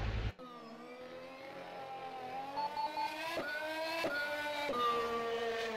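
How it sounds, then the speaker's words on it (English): In the rFactor 2 racing sim, a Formula SimRacing 2018 development car's Honda-sounding engine revs up around Spa in rising, whining pitch sweeps, shifting gears several times with sharp drops between climbs. "That was a proper Honda sound."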